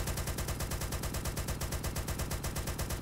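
Semi-automatic rifle fire in the shooter game ARMA 2: a rapid, evenly spaced string of loud shots running without pause for about three seconds, with no voices.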